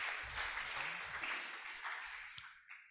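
A church congregation applauding after a question session, a dense, steady wash of many hands clapping at a moderate distance that tapers off toward the end.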